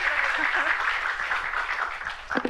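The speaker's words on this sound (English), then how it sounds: "we can applaud again" Audience applause at a science communication forum session, a steady patter of clapping from a seated crowd lasting a couple of seconds before fading out.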